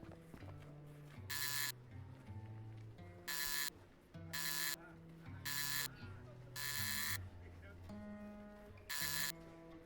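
A door buzzer in the game Shardlight pressed repeatedly, seven or so harsh electric buzzes of about half a second each, separated by a droning tonal game soundtrack.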